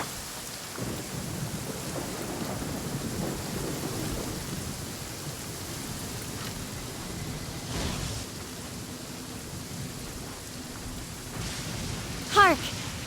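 Thunder rumbles low and long over steady rainfall in the video game Genshin Impact, with a few distant rolls and a sharper crack near the end over the constant rain hiss.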